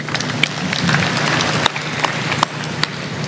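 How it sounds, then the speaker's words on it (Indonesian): Audience in a hall applauding at a ceremonial gathering, a dense, continuous patter of many clapping hands with a few sharper claps standing out. "Tepuk tangan lagi."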